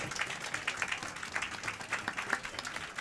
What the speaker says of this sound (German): Da vielleicht auch mal einen kleinen Applaus.